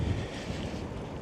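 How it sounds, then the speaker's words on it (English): Steady headwind roars across a cyclist riding in Arctic northern Norway, a dense, continuous low rumble of wind buffeting the microphone, loud and close, with no voices. "Headwind."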